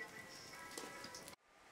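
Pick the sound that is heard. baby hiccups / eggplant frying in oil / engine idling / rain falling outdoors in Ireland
rain falling outdoors in Ireland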